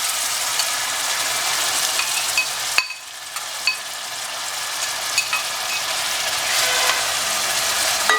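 A kilo of onions fries in hot oil for chicken bagheli, a loud continuous sizzle with scattered sharp clicks of stirring, the hiss dipping briefly partway through before returning at full strength.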